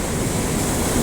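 Sea waves washing onto a beach at Chennai, a steady broadband wash of surf with wind noise, continuous and fairly loud with no talk.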